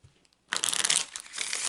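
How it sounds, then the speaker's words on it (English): A deck of Lenormand cards gets a steady close-up shuffle, a dense papery riffle that begins after a brief quiet moment and runs on continuously. "I'm going to take a few moments to shuffle the deck"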